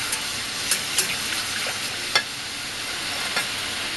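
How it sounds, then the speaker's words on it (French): A gel solution for spherification simmers at a gentle boil in a pot, giving a steady hissing bubble with scattered soft pops throughout. "un simple petit bouillon va suffire"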